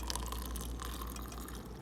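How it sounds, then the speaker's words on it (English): Water pours steadily onto a Cleopatra's Nature tea bag for a second brew, a close, continuous splashing trickle with a few light drips and no talking. "let me add this water up in here because I done bought it"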